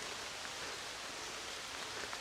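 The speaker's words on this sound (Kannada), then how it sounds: "ಮಳೆ ಸ್ಟಾರ್ಟ್ ಆಗುತ್ತೆ" Rain begins falling outdoors on a farm where cows and a young calf graze: a faint, even hiss of light drops that stays steady for the whole stretch, with no voices.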